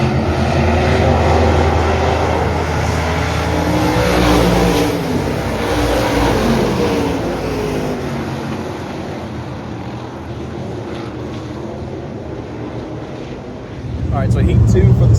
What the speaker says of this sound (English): heat 2 for the stock cars is now wrapping up